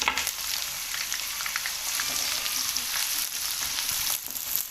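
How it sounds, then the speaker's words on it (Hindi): Two large onions frying in hot oil in a pan, giving a continuous close, crackling sizzle with faint stirring, steady throughout with no talk. "ये 2 बड़े साइज़ के प्याज हैं, ये मैं शामिल करके इसको मैं लाइट ब्राउन करूँगा"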